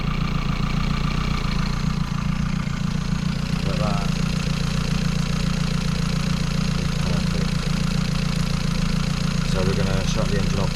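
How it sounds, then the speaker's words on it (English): A small fishing boat's engine idles on the water after an oil and filter change, a loud steady mid-low drone throughout, while someone talks briefly over it. "So we're going to shut the engine off in a minute"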